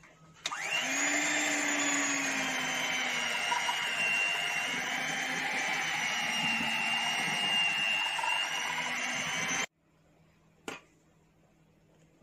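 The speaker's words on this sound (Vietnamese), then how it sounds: "mình lấy cái máy mình đánh cho nó chút xíu nữa làm nó đều" Electric hand mixer beating egg batter for coconut waffles, a loud steady whine that holds for several seconds and then cuts off abruptly, followed by a brief clack.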